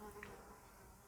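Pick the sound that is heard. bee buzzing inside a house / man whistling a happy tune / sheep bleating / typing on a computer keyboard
bee buzzing inside a house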